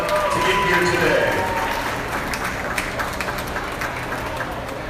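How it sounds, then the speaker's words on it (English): Applause for the top five wethers at a 2025 county goat show: loose, scattered clapping beneath a busy crowd murmur and nearby chatter, growing sparser toward the end. "Let's give them a big round of applause for all they've done to get here today."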